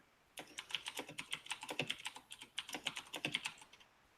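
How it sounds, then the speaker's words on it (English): Rapid keystrokes on a computer keyboard patter in quick irregular bursts, close and fairly quiet, with short pauses between runs of clicks and no talk. "I'm typing my action."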